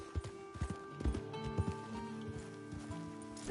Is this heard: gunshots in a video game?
no